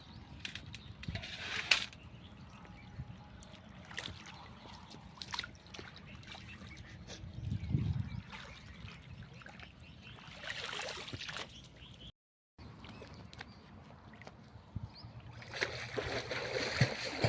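Rainwater flows through flooded ground in Tarapur after an evening downpour, a steady trickling and splashing that stays moderately close, rising in brief surges with occasional handling noise.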